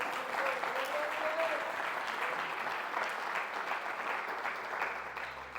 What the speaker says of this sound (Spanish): Vamos a dar una ofrenda de palmas.